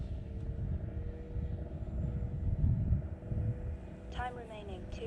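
An RC airplane engine drones at about three-quarter throttle during a maiden flight, a steady buzzing hum with wind noise, and a brief rising whine near the end.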